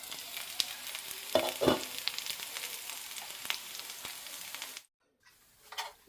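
Aloo tikki pan-frying with a steady, close crackling sizzle and a few louder pops near the start. The sound cuts to near silence after about five seconds, then a short burst of sizzle returns.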